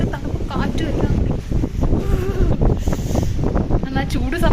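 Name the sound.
strong cold wind at a lake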